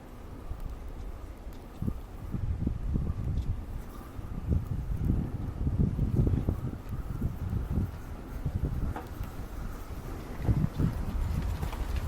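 Wind blows outdoors and buffets the microphone in low, uneven rumbling gusts that rise and fall throughout, with no talking.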